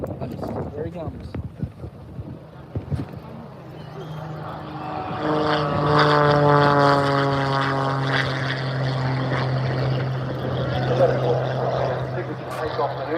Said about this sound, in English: he hangs the aircraft on the prop and basically runs it all the way down the runway